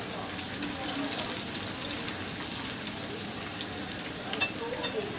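Fish cutlets frying in hot oil, with a steady dense sizzle running continuously and fairly loud throughout, with no talk.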